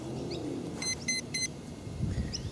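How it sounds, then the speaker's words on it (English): A small pocket drone gives three short, evenly spaced high electronic beeps after its battery is connected, clear and close over a low background hum with faint chirps around them. "Beep, beep, beep."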